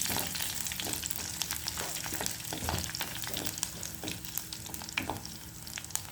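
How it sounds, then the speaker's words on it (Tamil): Garlic frying in hot oil, a steady bright sizzle with scattered crackles and pops running throughout, close and fairly quiet, with no talking. "உள்ளி போட போகிறோம். போட்டு நல்ல வடிவாக பொரிப்போம்."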